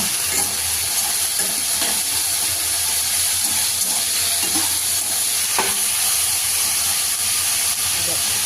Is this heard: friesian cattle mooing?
no